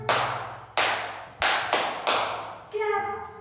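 Five crisp, close hand claps fall in a steady beat along to a children's song, each ringing out briefly over a soft musical bed, with a voice returning at the end.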